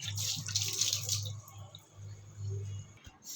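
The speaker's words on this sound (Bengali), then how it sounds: "বেসিনটাকে একটু ভালো করে ধুয়ে দিই," Water runs from a tap into a bathroom basin being washed, a close, steady splashing stream that dips briefly before resuming and cuts off near the end.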